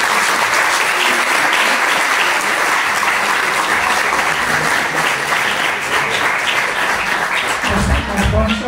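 Audience applause at a literary talk, a full, steady roar of clapping that stays loud for over eight seconds before a voice comes in briefly at the very end.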